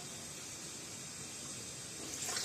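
Food being washed by hand in a bowl of water, with a steady close splashing and swishing that stays even and grows slightly louder near the end, with no talking.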